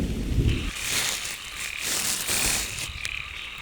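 Frogs croak in falling rain, a steady patter of rain with scattered croaks and calls mixed in, heard close with no voices.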